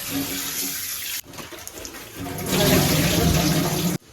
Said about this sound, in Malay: Lepas tu kita bilas untuk kali yang terakhir.